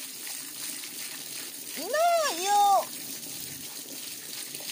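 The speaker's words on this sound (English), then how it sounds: "Close the water please." A garden water tap runs with a steady, even hiss throughout, while a short spoken exclamation rises over it in the middle.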